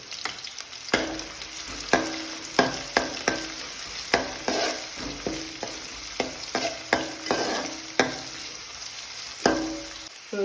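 Onion and green chilli frying in hot coconut oil for a spinach and jackfruit-seed thoran, a steady sizzle broken by a dozen sharp spoon-scraping stirs in an uneven rhythm, close and fairly loud with no voices.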